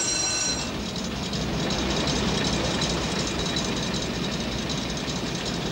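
The old engine of HMS Endurance runs steadily below decks on the way to Antarctica, a dense continuous mechanical rumble and clatter with no talk.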